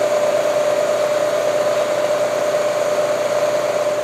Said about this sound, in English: We're going to turn on the spindle and slowly ram it into the part